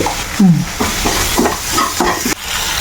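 Curry leaves and green chillies sizzle in hot oil in a pan for a chicken curry, a steady frying hiss broken by several short scraping stirs of a spoon, close and fairly loud with no talking.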